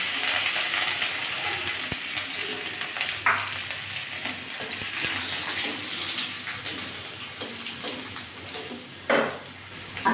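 Chopped garlic frying in oil alongside potatoes and fish, a steady dense hiss and sizzle throughout with occasional stirring clinks.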